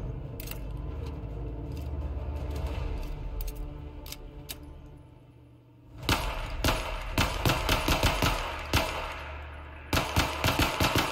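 Gunfire in the VR shooter Zero Caliber: after a low murmur, a loud burst of rapid shots cracks out, then a steady series of single reports and a final quick volley, close and unaccompanied by speech.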